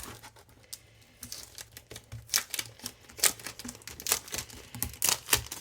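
Crinkly plastic wrapping on a scrapbooking parcel being opened, close rustling and sharp crackles that start sparse and grow into dense, irregular crinkling bursts.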